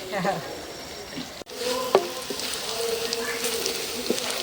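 Onions sizzling in hot oil in a home kitchen pan, a steady crackling fry with a brief stir clatter partway through, close and moderately loud.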